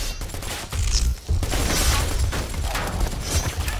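Rapid bursts of gunfire in the Predator Hunting Grounds video game, loud and nearly continuous, with dense shots layered over each other and brief lulls between volleys.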